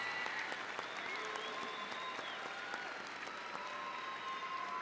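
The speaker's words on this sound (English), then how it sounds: "Join me in giving them a round of applause." An audience applauds at a 2022 senior high school graduation ceremony with sustained, fairly quiet clapping from a crowd. The texture is even and continuous and heard from a distance, with faint tones and voices underneath.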